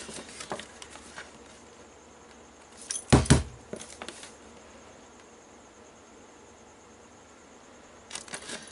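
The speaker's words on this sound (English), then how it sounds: "I'm going to punch that hole where I've marked it with the pencil." A hole is punched through a die-cut piece for a storage unit, one sharp crunching snap in the middle among a few lighter clicks and taps over a quiet room.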